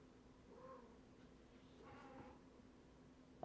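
Cats in the survival game Vintage Story let out a couple of faint, drawn-out meows and yowls over quiet background hum, ending with a sudden louder burst.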